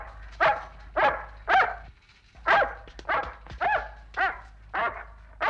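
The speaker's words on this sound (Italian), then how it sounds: "Ci mancava sto cane." A dog barks repeatedly at close range, about nine sharp barks in an irregular rhythm with short pauses between them, loud and alone.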